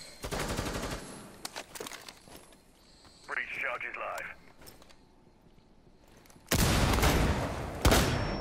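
Gunfire in Rainbow Six Siege, with a rapid burst of shots at the start and another loud, sustained volley near the end. Quieter clicks and movement fall between, and a player talks over it.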